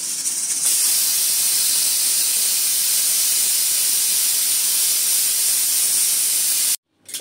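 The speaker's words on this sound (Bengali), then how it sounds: "একটা শীষ চলে আসছে।" Pressure cooker whistle releasing steam as a loud, continuous, close hiss that holds steady for several seconds, then cuts off abruptly, with no talking.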